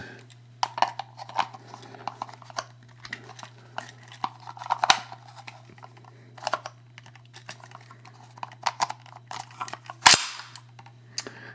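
An empty magazine goes into a Ruger Mini-14 ranch rifle: quiet scattered clicks and rattles of metal handling, ending in one sharp, louder snap as it seats.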